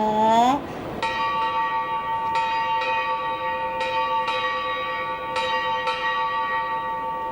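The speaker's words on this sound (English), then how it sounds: "8 bells were sounded." A ship's bell sounds eight bells at a Royal Navy field gun race parade, its clear metallic strikes falling in spaced pairs and ringing on with a long sustained tone across an open space.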